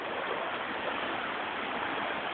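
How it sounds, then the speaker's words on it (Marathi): Strong floodwater rushing through flooded Murshidabad streets, a dense, steady roar of churning water, loud and close, without pause and with no voices. "आपण पाहू शकता या पाण्याचा फ्लो इतका आहे की जवळजवळ काही अजून जास्त प्रमाणात जर पाणी असतं तर मला सुद्धा वाहून नेलं असतं"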